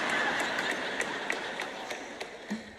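A single person clapping hands in a steady rhythm, sharp, moderately close claps roughly every quarter second over a faint room hiss, with no voices.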